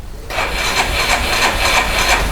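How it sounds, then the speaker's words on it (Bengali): A used Yamaha motorbike starts on its electric self-starter, catching almost at once and settling into a close, loud idle with a steady rapid pulsing throb. "সেলফে কাজ হয় গাড়ি"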